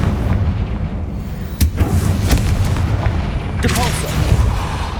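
Confringo fireball spell blasts in Hogwarts Legacy, sharp booming explosions in quick succession over a rumbling background, a few distinct loud bangs.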